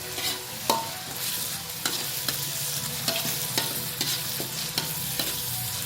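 Sambal with tempeh and anchovies frying in a pan, a steady sizzle under a regular series of spatula scrapes and taps roughly every half second, close and without voices.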